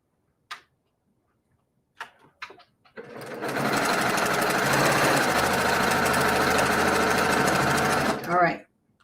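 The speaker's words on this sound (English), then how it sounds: "And now I'm going to sew" Sewing machine stitching a quarter-inch seam on a kaleidoscope quilt block, a few soft clicks and handling sounds first, then a steady close whirring run of several seconds that stops abruptly.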